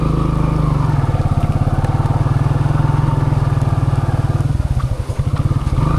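A motorcycle engine thrums steadily at idle with a rapid pulsing beat, close up, briefly revving near the end.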